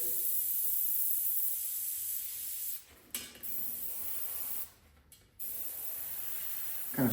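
Spray gun hissing out candy blue paint while airbrushing realistic flames and skulls, a steady close hiss in bursts with two brief pauses, no voices.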